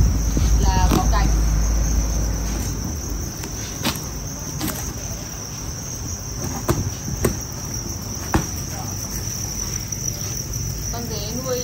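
Farmed field crickets raised by a breeder chirp steadily and close, a dense high trill running through the whole stretch, with some handling knocks and background murmur underneath.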